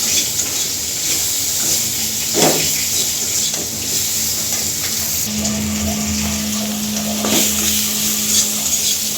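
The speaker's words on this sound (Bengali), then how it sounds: "আলুটা দিয়ে মশলার সাথে ভালো করে ভেজে নেব আমি" Cut potatoes frying and being stirred with spices in a pan for a ridge gourd dish, a steady close sizzle with spatula strokes and occasional scrapes, continuous and fairly loud with no voices.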